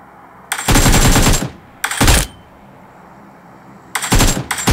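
Automatic gunfire in the mobile battle royale game PUBG Mobile: three loud, close bursts of rapid shots, the first about a second long, a short second burst, then a final burst after a quiet gap.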